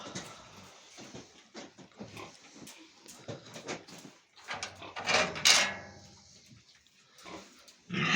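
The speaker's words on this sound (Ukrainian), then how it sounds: "Отака свиночка." Pigs grunt and snuffle close by among clanks and knocks of a metal feeder, with short bursts of squeals scattered throughout.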